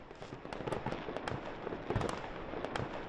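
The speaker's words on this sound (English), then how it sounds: "bright colours illuminated the sky as fireworks erupted over the Brandenburg Gate" New Year fireworks burst over the Brandenburg Gate in Berlin as a dense run of crackling pops and sharp bangs, some distant and muffled, others closer, overlapping in irregular quick succession.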